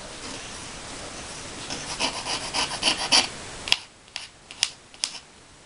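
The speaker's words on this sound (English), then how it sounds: "I could do a little bit more cutting." Paper being cut while opening mail envelopes, a run of soft rubbing, snipping strokes building up, then a few sharp isolated clicks and snips against near silence, close and quiet with no talk.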